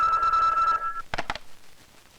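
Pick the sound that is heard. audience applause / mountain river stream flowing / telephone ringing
telephone ringing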